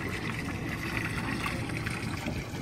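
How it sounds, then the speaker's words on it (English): Water flowing steadily into an upweller tank through an intake pipe, a continuous close rushing and trickling wash with no pauses or talk. "Here you can see the water coming into the tank."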